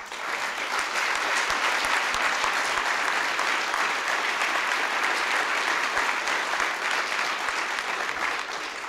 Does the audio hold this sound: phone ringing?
no